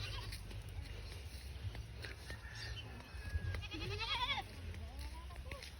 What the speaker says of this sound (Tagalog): Hello kambing!